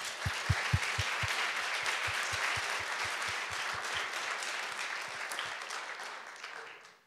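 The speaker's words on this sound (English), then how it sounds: "if we can just have one more round of applause for Mike, for Armen, for all of the teams" Awards-ceremony audience gives a round of applause, a steady wash of clapping with a few close, distinct claps near the start, fading out toward the end.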